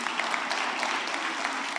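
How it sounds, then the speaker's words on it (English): An audience at a children's devolution conference in Kenya gives a steady round of applause from many hands, moderately loud and sustained for the whole moment. "So you can clap for me."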